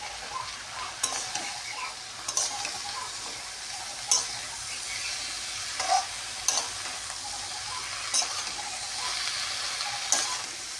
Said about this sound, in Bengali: শাকটা একটু ভাজা ভাজা হয়ে এসেছে